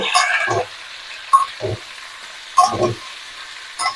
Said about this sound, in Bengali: এতে আমি এবারে আমগুলো ঢেলে দেব। এইগুলোকে ভালো করে নেড়ে নেব।